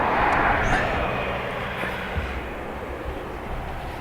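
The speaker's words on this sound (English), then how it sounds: "EIDEI, the older rugby livery, has just had a missed approach on the far side." An aircraft in older rugby livery on a missed approach on the far side of Dublin Airport, its distant engine roar fading steadily from a moderate rush to a faint hum.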